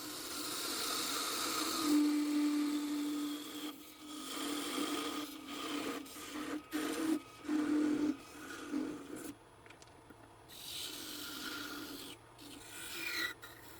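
A wood lathe trims excess material from a turned wooden salt shaker plug, with raspy scraping and rubbing that comes in uneven strokes and short bursts, fairly close and moderately loud.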